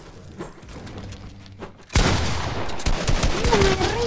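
Burst of video game gunfire in a shooter match, a loud dense fusillade of rapid shots erupting halfway through after quieter background sounds, with a voice talking faintly in the mix.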